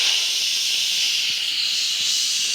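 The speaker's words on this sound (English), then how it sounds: "So I'm just going to click the vent button" A pressure cooker vents its steam after cooking a sweet potato and coconut curry, a steady loud hiss that stays even and continuous from start to finish.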